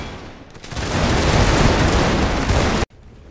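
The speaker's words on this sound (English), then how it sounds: "Switch over here to the cannons." Massed cannon fire in the Victoria Total War strategy game, a dense roaring barrage of overlapping blasts lasting a few seconds before cutting off abruptly, loud and broadband with no voices.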